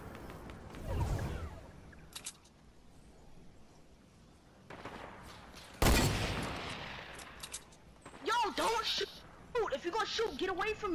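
Gunfire in the video game Fortnite cracks out in a few sharp, loud bursts separated by quieter gaps, with voices talking toward the end.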